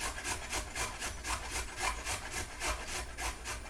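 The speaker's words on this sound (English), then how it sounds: "Let's just grate it the rest of the way down." An unpeeled carrot is grated by hand, giving close, rhythmic rasping strokes at a steady pace of about two per second, with no talk over them.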